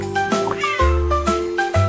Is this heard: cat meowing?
yes